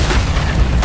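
Artillery guns firing in the Plastic Army Men game, a single loud, deep booming blast that fills the whole brief moment with heavy low rumble.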